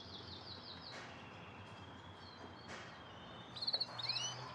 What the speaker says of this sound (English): These birds are sometimes my nemesis, but I would never have them go away